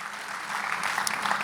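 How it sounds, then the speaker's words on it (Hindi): Audience applause at a live Hindi comedy show, a soft, continuous patter of many hands that thickens slightly toward the end, with no talk over it. "मैं चाहता हूं और एक बार जोरदार तालियां आप सुंदर के लिए, हरियाणा के लिए बजाएं।"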